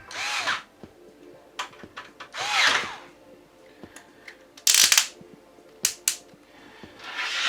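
A power screwdriver drives screws into a Lian-Li LanCool 207 PC case in loud, close whirring bursts of varying length, separated by brief handling clatter, with no talking.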